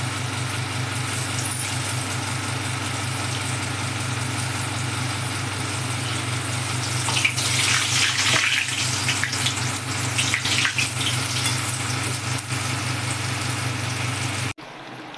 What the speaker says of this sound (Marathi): आता आपण ही वडी तळून घेऊ.